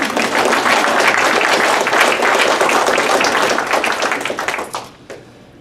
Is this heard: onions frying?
no